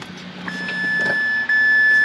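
Someone turns the ignition key in a car with an immobilizer fault that keeps it from starting. Soft clicks come first, then a sustained electronic warning tone sounds and keeps going. There is no engine catch.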